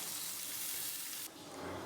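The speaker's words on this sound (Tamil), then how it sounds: "இதில் இப்போ 1 கிளாஸ் அளவுக்கு தண்ணி சேர்த்துக்கோங்க." Water pours into potato gravy in a pan, a steady broad rushing wash of liquid that runs near and loud throughout, shifting slightly in tone near the end as the pour eases.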